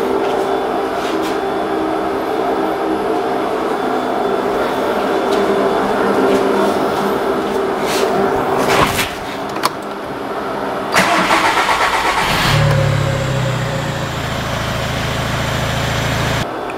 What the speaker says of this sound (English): I hope you could hear there was an extended crank time without the cam signal.